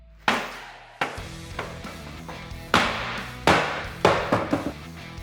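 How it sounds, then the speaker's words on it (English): An axe strikes a thick plywood van floor with honeycomb-textured top, seven or eight sharp loud chops at irregular intervals, each a hard woody thud with brief ringing decay, no voices. "We're gonna throw this in there and just see how it holds up to the axe."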